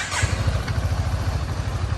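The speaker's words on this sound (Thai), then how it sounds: "เดี๋ยวสตาร์ทให้ฟังเสียงเครื่องยนต์กันดู" A BMW C400GT scooter engine runs close by with a fast, even chuffing pulse, a short steady burst of mechanical throb with no talking.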